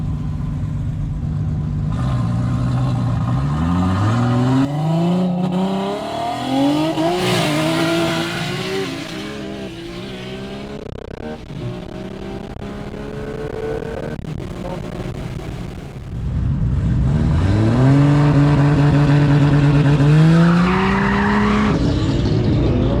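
An electric Hyundai IONIQ 6 N roll races a Volkswagen ute. Loud synthetic engine-like tones rise in stepped upshift sweeps, drop back, then climb again strongly near the end amid road and wind noise.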